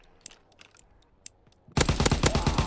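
Video game gunfire from around a corner: a few sparse faint clicks and taps, then a sudden loud burst of rapid automatic shots that keeps going to the end.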